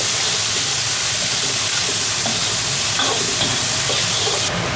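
Two catties of pickled chili peppers hit a hot wok already holding bean paste, Sichuan peppercorns, garlic and ginger, giving a loud, steady broadband sizzle with small crackles throughout and no voices.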